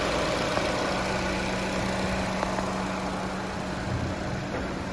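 A 2017 Honda Civic LX 2.0 engine idles with a low, even rumble and a faint hum, continuous and unchanging, with no voices.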